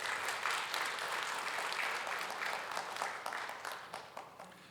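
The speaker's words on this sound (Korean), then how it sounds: "박수로 한번 환영하겠습니다." A church congregation at a special early-morning service claps to welcome the visiting pastor, a full round of applause that swells early and then gradually tapers off, with no speech over it.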